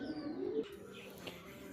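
A female teddy pigeon gives a low, soft coo close by, a single drawn-out call in quiet surroundings followed by faint rustling.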